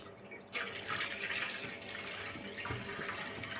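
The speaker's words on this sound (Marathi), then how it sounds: "मी आता यामध्ये आपल्याला घालायचं आहे पाणी तर पाणी घालूया आपण" Water splashes and pours steadily into a metal steamer pot for making batti, starting abruptly after a short moment of quiet and continuing with a hollow, ringing tone.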